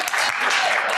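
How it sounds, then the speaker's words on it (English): Rotary club members clap for a newcomer coming up to give a newscast, a brief, dense burst of many hands close by at full volume, with speech faintly mixed in. "More clapping"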